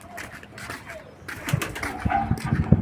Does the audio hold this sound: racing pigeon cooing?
yes